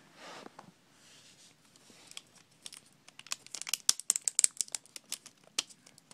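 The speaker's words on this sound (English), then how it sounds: "you peel your tape back on this," Tape being peeled back from the screen of an HP g7-1365dx laptop, a crackling, crinkling run of sharp little ticks and rips that grows busier and louder, close and alone.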